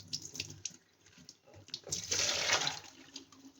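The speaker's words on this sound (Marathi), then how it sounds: "त्या आपण जरा धुवून घ्यावं कारण बराचसा कचरा आहे त्यांना" Wild spiny gourds (kartuli) are swished and rinsed in water, with soft splashing that builds into a louder gush of running water near the end. The sound is close up and heard alone.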